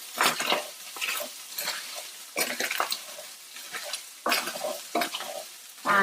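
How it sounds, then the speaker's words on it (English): Ground meat browning in a pan for a paleo egg roll bowl, stirred in bursts with scraping utensil strokes over a soft sizzle, close and uneven in rhythm, with no talking. "I'm just stirring this up so it browns evenly."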